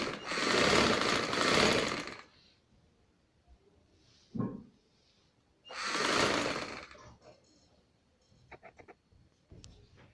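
A sewing machine stitching a bridal maxi's sleeve and lining runs in two loud bursts of rapid stitching, separated by quiet gaps with small handling clicks and a brief knock.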